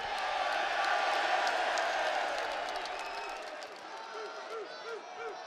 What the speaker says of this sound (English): The crowd's that loud, I can't even hear you.